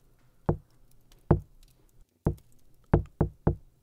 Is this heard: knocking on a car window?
yes